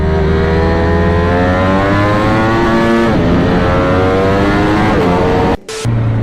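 A BMW S1000RR and a Ducati Panigale V4 sportbike in a drag race, a loud continuous high-revving engine wail climbing in pitch, with a brief gear-change dip near the end.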